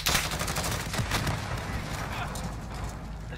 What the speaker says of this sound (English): The shotgun, bro.